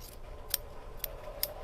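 Scissors snip through quilt binding fabric in three crisp, separate cuts, close and clear against a quiet room.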